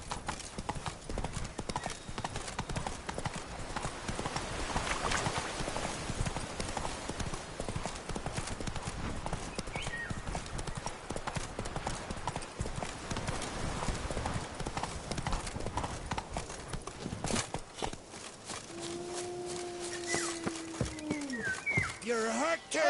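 Roach the horse's hooves clip-clop in a fast, continuous rhythm in The Witcher 3: Blood and Wine, near and steady throughout, with some talk and a brief tonal call near the end.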